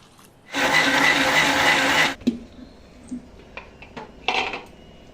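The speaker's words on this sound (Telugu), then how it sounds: "ఇప్పుడు కొద్దిగా నీళ్ళు పోసుకొని గ్రైండ్ చేసుకోవాలి." Mixer grinder grinding soaked rice and lentils with a little water for dosa batter, a loud steady whir for about a second and a half, then stopping, followed by a few clinks and knocks of the jar.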